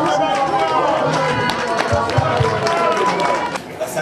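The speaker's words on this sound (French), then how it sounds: "Applaudissements." Applause at a Guinean ministry handover ceremony, a dense, steady wash of clapping mixed with crowd murmur lasting throughout.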